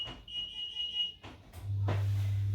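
A kitchen pie timer alarm beeps in short electronic bursts, followed by a steady low buzzing tone, with no talking.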